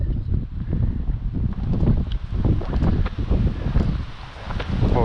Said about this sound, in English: No, the wind's behind me, actually.